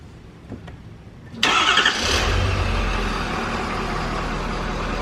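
A 2019 Ford F-350 pickup truck engine cranks and catches after a brief quiet moment, then settles into a steady, close idle with a low rumble.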